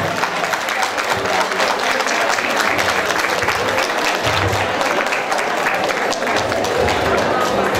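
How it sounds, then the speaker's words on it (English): A crowd at a fiftieth birthday celebration claps and cheers in a loud, continuous wash of applause mixed with crowd noise and babble. "I'm going to ask everybody here to please clap for my late mom and my late dad"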